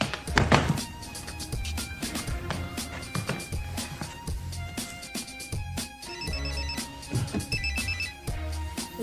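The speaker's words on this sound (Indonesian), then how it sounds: "Keesokan harinya, Toeng mendapat telepon dari si Ines untuk mengajaknya ketemuan" A telephone ringing in a film scene, with repeated electronic ringtone bursts mixed among background music and knocks at moderate loudness.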